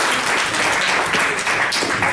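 Steady applause from a conference audience, a dense, even wash of many hands clapping at full volume for the whole stretch with no pauses.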